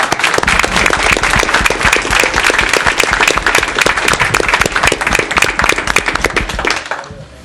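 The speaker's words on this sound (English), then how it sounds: "Round of applause for them, please." An audience in a town council meeting room gives a round of applause: dense, steady clapping, loud and close, lasting several seconds before fading out quickly.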